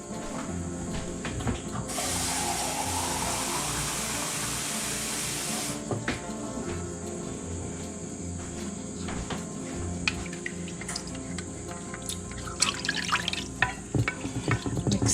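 A can of water is poured into a pan of beef tips with cream of mushroom soup, a steady splashing hiss for several seconds followed by quieter drips and light clinks, close and without talk.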